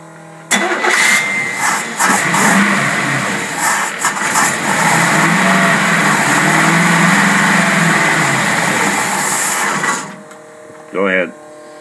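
A car engine fitted with a pair of Rochester carburetors from a tri-power set cranks, catches and roars up close, revving loudly and unevenly for about nine seconds before cutting off, followed by a brief short burst.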